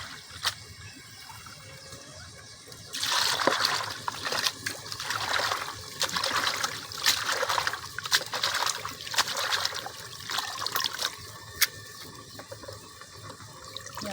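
Ivy gourd (telakucha) leaves and shoots are washed under running water, which splashes and trickles nearby for several seconds before easing off.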